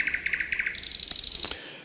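A thrush nightingale sings from a field recording: a quick run of evenly spaced, clipped chirps, then a higher rattling phrase ending in one sharp whistle. The song is clear and near, with faint background hiss and no speech.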